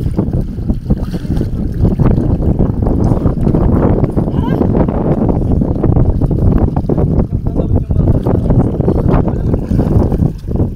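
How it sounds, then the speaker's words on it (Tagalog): Strong, steady wind roars and buffets the microphone throughout on a boat, with a low boat rumble and indistinct voices underneath. "Hangin talaga yun"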